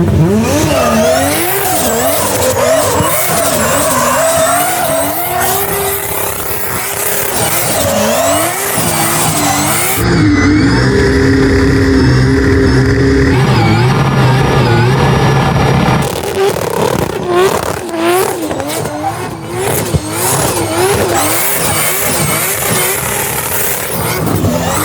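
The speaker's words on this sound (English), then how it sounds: "So technically, you can do victory donuts." A high-horsepower burnout car spins victory donuts around a Kubota, its engine revving hard in a loud, continuous wail with squealing tires throughout, the pitch rising and falling as it circles close by.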